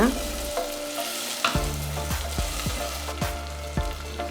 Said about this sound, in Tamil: வெங்காயம் எண்ணெயில் நல்லா வதங்கின உடனே சின்னதாக 2 தக்காளி கட் பண்ணி இது கூட சேர்த்துக்கோங்க